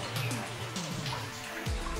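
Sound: water dripping in a mine adit

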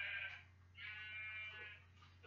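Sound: sheep bleating in the video game Minecraft

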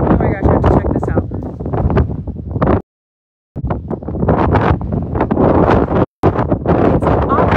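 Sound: strong wind blowing into the microphone outdoors

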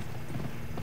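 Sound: horse hooves clip-clopping while riding, from video game Gun

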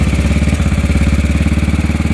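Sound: 1956 Norton ES2 motorcycle engine idling

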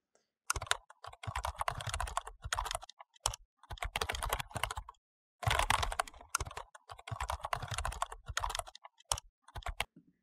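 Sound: typing code on a computer keyboard

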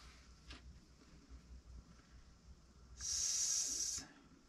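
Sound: silicone sealant being applied in a bead

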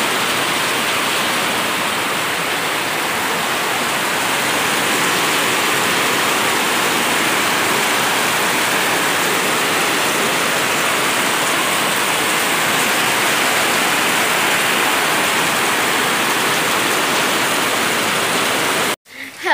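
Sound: rain falling and dripping

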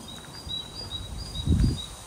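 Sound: birds singing

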